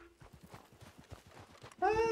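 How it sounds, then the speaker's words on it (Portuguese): In the video game Red Dead Redemption Online, a horse's hooves clop in quick rhythmic beats, then a loud, shrill whinny bursts out at the end, with no talking. "Ah, tem o um cavalo aqui."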